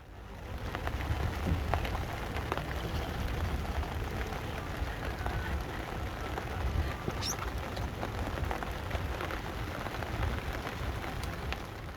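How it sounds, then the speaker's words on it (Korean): Sudden heavy rain pours down steadily and densely across the whole stretch while riding along somewhere near Hangzhou, a continuous broadband hiss of drops on surfaces with no voices. "타는 중에 갑자기 비가 쏟아지는 거예요. 빗소리까지 더해져서 완벽해진 운치."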